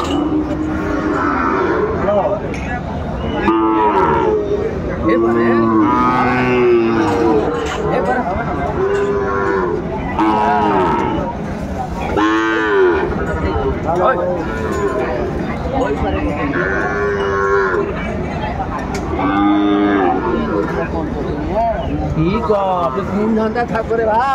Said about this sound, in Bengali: শাহিওয়াল জাতের ষাঁড় বাচ্চা, বেশ কোয়ালিটি সম্পন্ন